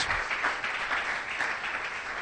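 A church congregation applauds with dense, steady clapping that carries on without a break, no talking over it.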